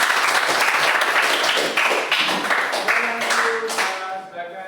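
Students in a classroom clap together after a group presentation, giving loud, close, rapid overlapping claps that thin out and stop near the end, with faint voices at the close.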